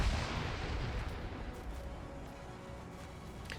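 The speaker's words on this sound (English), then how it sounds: "Grenades being thrown." Grenade blasts and gunfire in a WW2 PvP video game battle, a heavy boom rolling into a dense, continuous rumble of distant explosions and shots that slowly fades.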